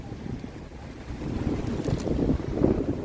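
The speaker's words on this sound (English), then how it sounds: "It's damn windy." Strong wind buffets the microphone in heavy low rumbling gusts that grow louder toward the end, with no voices.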